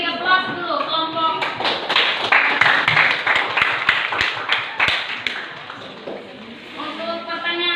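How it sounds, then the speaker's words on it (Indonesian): A classroom group claps in applause, a burst of close hand claps that builds and then fades, with a teacher's voice speaking before and after it. "Kita beri aplaus dulu kelompok."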